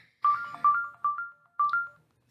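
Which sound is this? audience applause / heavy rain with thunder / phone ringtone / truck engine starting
phone ringtone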